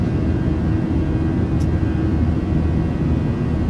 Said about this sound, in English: As the aeroplane starts to accelerate to 250 knots now.